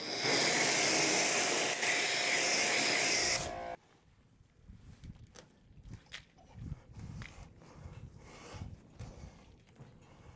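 Water rinses a car surface treated with Soft99 Fusso Coat, a loud broad spraying hiss for a few seconds before cutting off, then quieter dripping, shuffling and footsteps.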